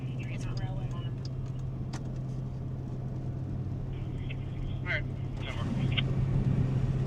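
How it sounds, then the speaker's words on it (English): A truck with a chopped-off exhaust rumbles steadily from nearby with a rough, droning engine, heard from inside a moving car, with a few faint clicks over the noise. "it's this exhaust that's like chopped off, and I can hear it way back here"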